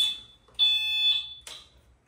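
A golf cart's reverse warning beeper sounds in two short, shrill high-pitched tones with a gap, the second beep brief, against near silence.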